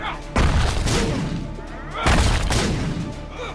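Two heavy bomb blasts from The Binding of Isaac, one near the start and another about halfway through, each a loud booming burst that rumbles down slowly.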